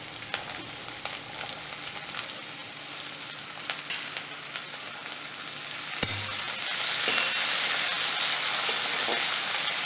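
Green chillies and potatoes sizzle steadily in a hot pan for poha, a continuous frying hiss with a brief clatter midway, after which the sizzle grows louder and brighter.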